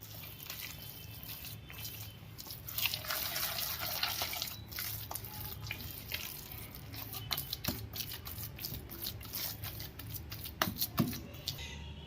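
A thick batter of ground dal and chopped onion is mixed by hand in a bowl. Wet squelching and slapping sounds repeat steadily and fairly close, with a few sharper sticky bursts and no speech.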